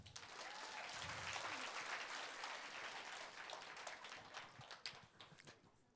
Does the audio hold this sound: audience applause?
yes